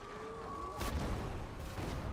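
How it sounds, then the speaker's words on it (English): A video game explosion from a grenade lands as a single heavy boom partway through, cutting off a steady tone and leaving a rumbling tail under constant game noise. "That was a big boom."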